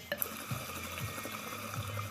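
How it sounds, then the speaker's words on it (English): Hookah water bubbling through a diffuser while someone draws on the pipe, a soft muffled gurgle of small repeated bubbles, fairly quiet and close, with no talking. "it does an excellent job of diminishing the sound of the bubbling while you're doing a draw"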